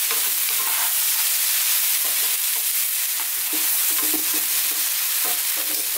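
An eggplant and chickpea dry curry with ripe tomatoes is stirred continuously as it fries in a pan, producing a steady close sizzle with soft scraping of the spoon, no voices.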